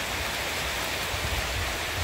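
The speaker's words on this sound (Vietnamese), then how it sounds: "Mưa tới luôn rồi cả nhà." Rain falling outdoors, a dense, even hiss of steady downpour that runs unbroken through the whole short stretch.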